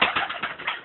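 A pigeon in a loft of Palacios and Laudino Murciano breeds gives a short, close, soft coo with a few rhythmic pulses, and no voices are heard.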